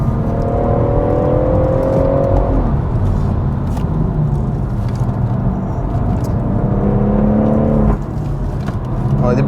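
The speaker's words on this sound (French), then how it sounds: "On a des belles explosions à l'échappement." BMW M140i driven hard on the Nürburgring, engine droning loud and steady with rising revs, shifts near 2.5 and 8 seconds, and crackling exhaust pops scattered through the steady roar.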